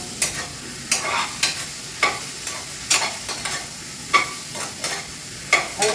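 Banana pieces sautéed in ghee in a pan, a steady sizzle broken by about a dozen sharp scraping stirs of a spoon against the metal, close and fairly loud, with no voices.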